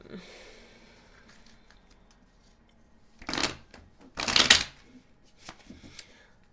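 Tarot card shuffling comes in two brisk riffling bursts a second apart, after a quiet stretch with faint rustling, close and moderately loud.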